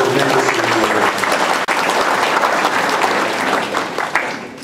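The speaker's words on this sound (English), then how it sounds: "You should give yourselves a round of applause" Audience applause at a sheriff's press conference, a dense, loud, sustained burst of clapping filling the room, steady throughout with no voices over it.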